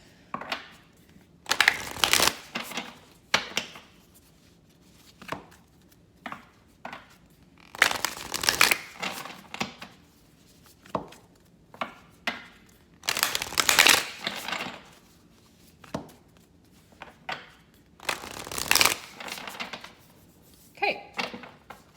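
A tarot deck is shuffled in intermittent bursts of crisp riffling and shuffling, close and fairly loud, with quiet gaps between handfuls of cards.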